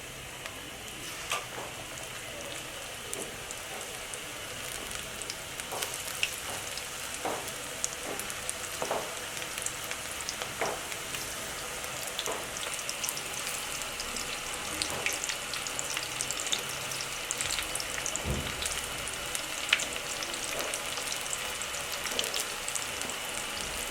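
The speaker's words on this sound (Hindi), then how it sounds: "पकोड़े तलने के लिए मैंने ऑयल चूल्हे पर रख दिया है और अब मैं इसमें पकोड़े डालूंगी" Potato and vegetable pakoras deep fry in hot oil in a kadai over a high flame, giving a steady, even sizzle with scattered pops and occasional utensil clicks, close and continuous with no voices.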